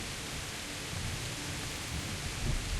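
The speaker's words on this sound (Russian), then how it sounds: "Дождь." Steady rain hisses in the medieval world of Kingdom Come: Deliverance, a faint, even wash of noise with a slight swell near the end.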